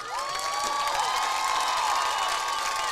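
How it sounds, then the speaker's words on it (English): A crowd of spectators at a high school football game with a marching band fills the air with steady applause and cheering, broad and continuous, with a few whistles and shouts rising above the clapping. "let's have one last round of applause for our amazing alumni and guest director, Terry Orier"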